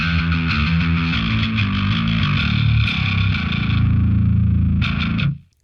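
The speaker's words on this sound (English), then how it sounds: "The Obsidian here is a simulation of a well-known dark glass pedal." Heavily distorted metal bass played through a simulated Darkglass-style pedal, thick gritty low end with a bright, buzzing upper edge, loud and continuous riffing that cuts off abruptly at the end.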